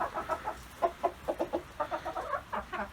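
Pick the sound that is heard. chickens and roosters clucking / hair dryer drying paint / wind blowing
chickens and roosters clucking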